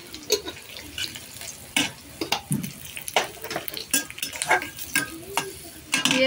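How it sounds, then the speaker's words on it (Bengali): Onions fry in a pan while a utensil stirs them now and then. Sharp scraping strokes land at irregular intervals over a soft sizzle, close and fairly quiet. "পেঁয়াজ ভাজা হয়ে গেছে"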